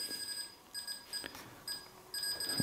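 Intermittent high-pitched electronic beeping in short bursts, repeating in a regular on-off pattern over faint background noise.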